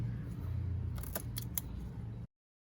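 Scissors cutting, a few short crisp snips close to the microphone over a low background hum, then sudden silence.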